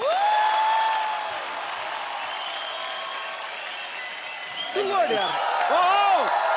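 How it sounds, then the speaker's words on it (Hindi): Studio audience applause welcoming a singer onto a Hindi comedy show stage with a cricketer, a steady broad roar of clapping under music, with a brief voice near the end. "प्लीज आप सबकी जोरदार तालियों के बीच इनवाइट करना चाहता हूँ"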